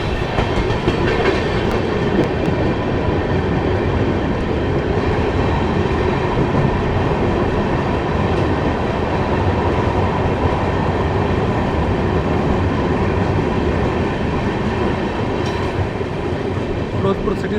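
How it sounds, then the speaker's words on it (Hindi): The 14720 Bikaner–Amritsar Express runs steadily past Firozpur City station without stopping, a continuous loud rumble of rolling wagons with faint rhythmic wheel clatter throughout, heard from on board. "फिरोजपुर सिटी स्टेशन को स्किप करते हुए आगे बढ़ती हुई हमारी ट्रेन 14720 बीकानेर अमृतसर एक्सप्रेस।"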